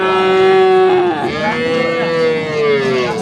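Cattle and calves low loudly at a livestock market, one long close moo breaking into a second drawn-out call, with no talk over them.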